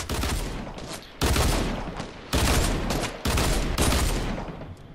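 Sustained bursts of automatic gunfire from guns in a video game, four loud, dense volleys with brief gaps between them, close and dominant throughout.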